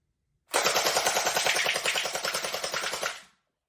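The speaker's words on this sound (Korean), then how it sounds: "우리는 복도로 가서 목표물을 몇 개 쏘고 그것이 어떻게 작동하는지 볼 것입니다" An MK-416 gel blaster fires a single rapid automatic burst of about three seconds in an indoor hallway, loud and near, a fast even rattle of shots that stops abruptly.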